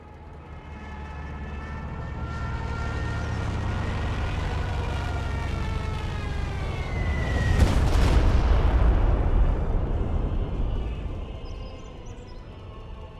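Stuka dive bomber in Company of Heroes 3, a rising siren-like engine whine building into a loud rumbling impact with heavy explosive booms that swell and then fade, continuous and dense.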